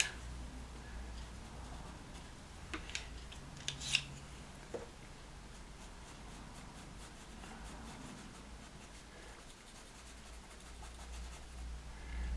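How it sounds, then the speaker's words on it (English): Soft, scratchy pastel pencil strokes rub across paper with occasional sharper taps, steady and close, no talking. "we're using the pastel pencils here to help us stay within the lines of the drawing"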